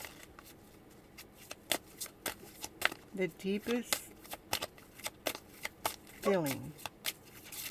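Tarot cards being shuffled in a series of quick papery riffles and snaps, close and moderately loud, with a person talking over and between the shuffles.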